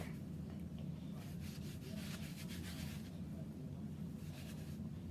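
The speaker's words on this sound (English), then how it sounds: "take some flour and just rub it on here till it's just not so eggy right there" Flour is rubbed by hand onto a sheet of homemade egg noodle dough, producing soft, faint, dry scuffing strokes in short irregular bursts close by in a quiet room.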